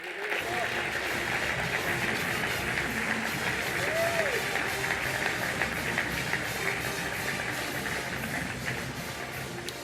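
A large audience at the Broyles Award ceremony claps continuously in a steady, dense wash of applause with crowd noise, sustained at an even level throughout.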